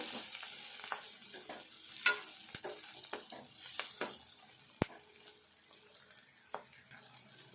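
Green chillies, washed and patted dry, frying in a pan for a Telangana drumstick and green chilli pulusu. A steady, close sizzle carries scattered sharp clicks and spatters throughout, with no voices.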